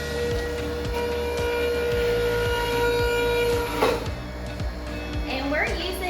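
A Pure Juicer motor grinds apple slices with a steady mechanical hum and regular rhythmic thumps, close and continuous, while a person talks over it.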